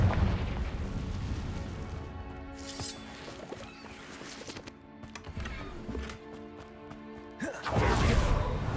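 Confringo blasting spell explosions in Hogwarts Legacy, several booming bursts scattered through busy game sounds and music, with a final louder blast near the end.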